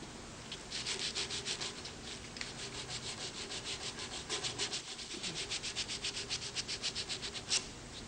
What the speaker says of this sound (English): Check and sand.